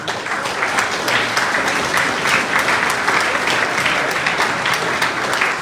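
A big crowd applauds loudly and continuously at the Longford Sports Star Awards 2023 ceremony, a dense steady wash of clapping with no voices over it.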